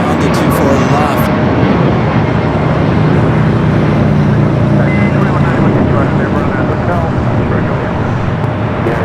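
An Emirates Airbus A380 taxis toward runway 24 left at Los Angeles airport, its engines giving a loud, continuous broadband roar that holds steady throughout, with a voice talking over it.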